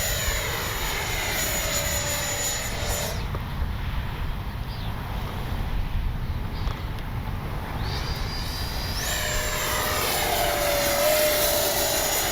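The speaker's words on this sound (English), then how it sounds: "Since there's no wind, we'll just take off from down there." FMS Avanti S 70mm RC jet taking off: a continuous loud ducted-fan roar and whine runs the whole time, dips briefly midway, then swells again as the model powers up and climbs.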